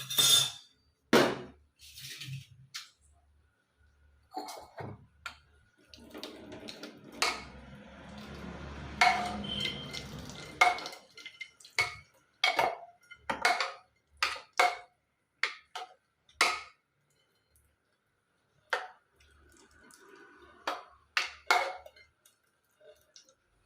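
A drinking glass mashes cooked puṇḍi greens in a pot. It makes irregular knocks and thuds, with a short stretch of rougher grinding, all close and fairly quiet over about twenty seconds, with no talking.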